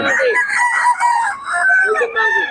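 A Sweater bloodline gamefowl rooster crows loudly and close by, one long strained cock-a-doodle-doo call that stretches across the whole moment with a brief break near the middle.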